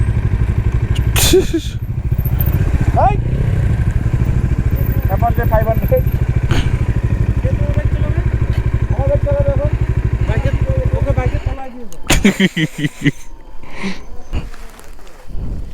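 A motorcycle engine runs steadily at a low rumble for most of the clip, then cuts out near the end as voices and clatter take over.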